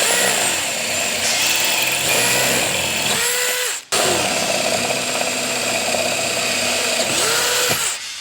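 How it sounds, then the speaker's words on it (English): A power drill whines loudly and steadily up close, pausing briefly before spinning up again, its motor pitch wavering as it bites while drilling a final-sized hole for a roof rack bracket on a Toyota Tundra. "it'll just make it a lot easier to drill your final sized hole"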